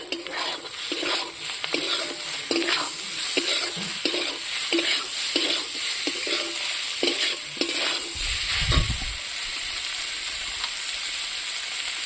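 Chicken fries and sizzles in spiced oil in a pan, with a steady hiss and a regular scraping rhythm as it is stirred, followed by a brief low thump near the end.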